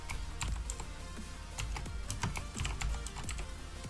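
Rapid typing on a computer keyboard, a close, irregular patter of sharp key clicks with a few heavier strokes, no talking.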